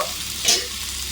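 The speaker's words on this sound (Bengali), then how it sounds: "সবজিগুলো আমি ঢাকা দিয়ে এক থেকে দুই মিনিট ভেজে নেব" Vegetables for a spinach dish frying in a covered pan give a steady close hiss of sizzling, swelling briefly in the middle before settling back, with no speech.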